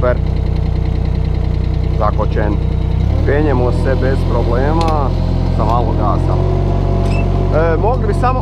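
A Thwaites 1T mini dumper's engine runs loud and close with a steady low throbbing drone, its pitch rising slightly as the machine climbs with a little throttle, while someone talks over it.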